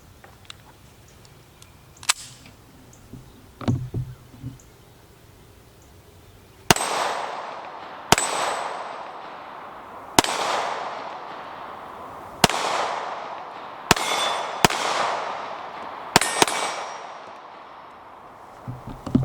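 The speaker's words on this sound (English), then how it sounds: "we're gonna shoot this magazine full" A 9mm Luger pistol fires a full magazine outdoors, eight sharp, loud reports spaced a second or two apart, each ringing out with a decaying echo, preceded by faint handling clicks.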